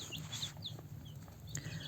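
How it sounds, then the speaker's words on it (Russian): Domestic hen kept in a mesh enclosure in a farmyard, giving short clucks and chirpy calls over a steady low background hum, fairly quiet and close, with no one talking. "Вот такая у меня курочка."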